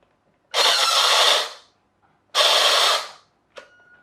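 RC car with a damaged gearbox running in two loud whirring bursts of about a second each, the motor buzzing harshly, followed by a brief weaker spurt.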